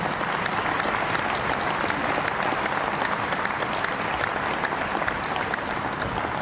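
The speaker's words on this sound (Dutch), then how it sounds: "ik denk dat een applaus echt op zijn plaats is voor al deze mensen die dit mogelijk maken" An audience at a wheelchair tennis doubles final applauds in a sustained, even burst of dense clapping that stays loud from start to finish.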